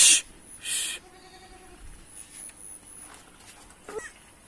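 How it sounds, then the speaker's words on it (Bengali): Three young goat kids bleat in a few short, high cries near the start, then things fall quiet with soft movement and low background noise. "ছাগলের 3টে বাচ্চা হয়েছে"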